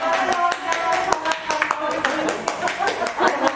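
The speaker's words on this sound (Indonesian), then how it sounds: "Tepuk tangan dulu dong" Several people clap together in a short burst of applause that fades out, with a voice talking over it.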